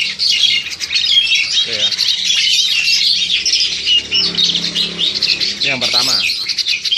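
Captive-bred Jalak Hongkong myna birds from Klaten call continuously with loud, harsh squawks and chattering whistles close by, while someone speaks briefly over them.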